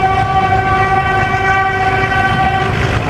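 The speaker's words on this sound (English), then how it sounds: "Another train" A meter gauge passenger train on the Mhow-Khandwa line rolls close by, its horn sounding a steady, loud chord over the rumble of wheels on rail for the whole stretch.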